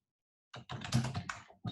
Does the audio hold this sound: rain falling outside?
no